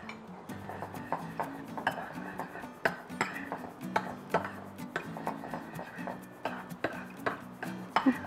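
Spoon stirring a taro and durian pudding mixture with coconut milk in a pan, steady rhythmic scraping and clinking knocks against the metal, moderately close with a faint hum underneath.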